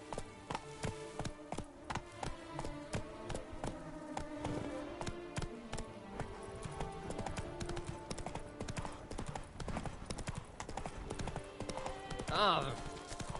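Roach the horse clip-clops along in The Witcher 3, a steady, fairly close hoof rhythm under a low game soundscape, with a brief buzzing insect-like sound near the end.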